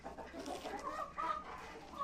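Chickens cluck busily while pecking at cabbage leaves, a close, steady run of overlapping clucks and soft calls with no talking.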